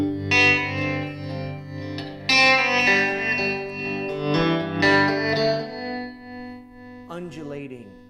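Electric guitar runs through a Harmony H650 amp with an undulating modulation pedal and a little reverb, ringing sustained chords and notes that swell and fade, then a brief voice near the end.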